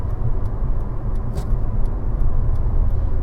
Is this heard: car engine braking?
yes